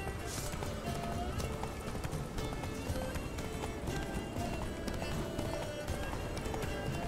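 Roach, Geralt's horse in The Witcher 3, gallops steadily with dense, continuous hoofbeats at close range under a loud, busy game soundscape with voices mixed in.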